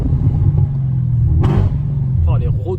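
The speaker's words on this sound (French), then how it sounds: "Oh, les retours de gaz." Mercedes C63 AMG Black Series W204 engine rumbling close up at low speed, with a sharp crackling exhaust pop midway and a couple of softer pops near the end, while people talk over it.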